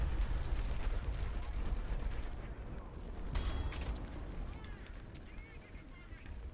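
Tank cannon fire and battle noise in the War Thunder video game, a loud rumbling barrage with sharp blasts and no clear gaps, dense low booms running throughout with voices faintly mixed in.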